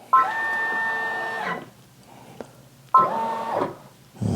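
A Brother PRS100 embroidery machine runs a design trace, giving two bursts of steady mechanical whirring, each about a second and a half, separated by a quiet pause and then starting again at the end.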